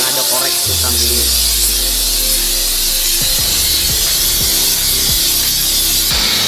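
A workshop heats a KLX motorcycle engine block before its cylinder liner goes in, giving a loud continuous hissing roar with metallic rattles and scraping clanks mixed in, close up and steady throughout.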